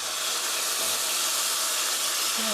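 Cold water hits a hot pan of stir-fried hamburger steak ingredients, giving a steady loud steam hiss that fills the whole stretch at an even level.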